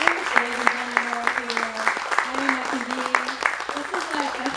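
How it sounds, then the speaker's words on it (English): Audience applause at a poetry festival in San Jose, a steady wash of clapping that carries through the whole stretch, with a voice talking over it at moderate level. "Big round of applause"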